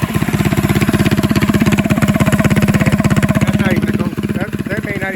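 A Go Power Sports Rascal minibike with a 228cc engine, its chain loose, runs loud and close with a fast, steady engine pulse that shifts as it comes off throttle near the end. People talk over the engine.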